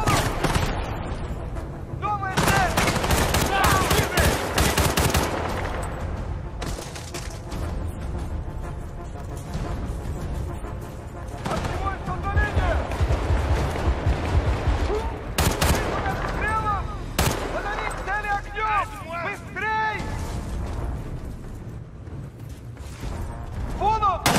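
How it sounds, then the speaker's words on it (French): Covering fire in the war game Battlefield Bad Company 2: dense bursts of rifle and machine-gun fire with heavier blasts, loud and continuous, with voices shouting over the battle. "Par là! Tire de couverture!"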